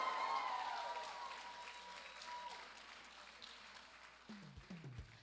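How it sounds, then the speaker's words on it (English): Audience applause for a finalist at the Miss Belau 2023 pageant, starting as a broad wash of clapping that gradually fades, with faint voices and a few low thumps near the end. "Please give a round of applause to contestant number 6"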